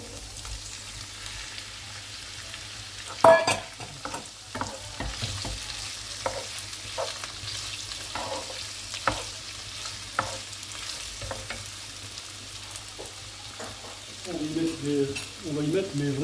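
Diced salmon and onions frying in a pan, a soft steady sizzle with scattered pops and occasional stirring scrapes, fairly quiet and close, with more vigorous sizzling near the end.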